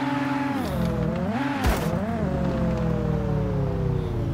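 A car engine in drift practice revs and swells in pitch, dips and climbs again in wavering harmonic sweeps, loud and close, with a brief sharp burst partway through.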